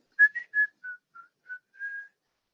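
Someone whistles a simple tune, a short run of clear, steady notes with brief gaps between them, close up with nothing else heard.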